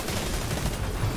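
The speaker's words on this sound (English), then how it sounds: "it's a lot of bullets" Gunfire in Destiny 2, a loud rapid fusillade of shots packed into a dense, continuous burst with no pauses and no voice over it.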